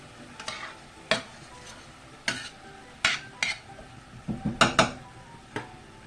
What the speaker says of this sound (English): And then stir that together.